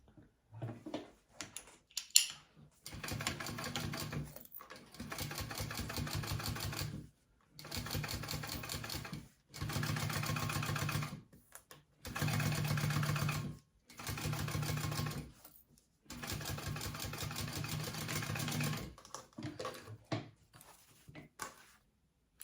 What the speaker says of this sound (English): And then we're gonna flip the band over and top stitch it